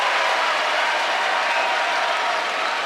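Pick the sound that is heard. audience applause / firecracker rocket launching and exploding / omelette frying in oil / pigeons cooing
audience applause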